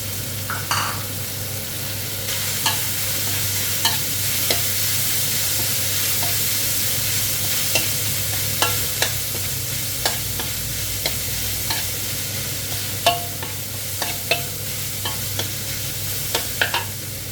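Pork stir-fried with chilies and holy basil in a hot pan, a steady loud sizzle with repeated scraping stirs and clinks of the utensil throughout, no talk.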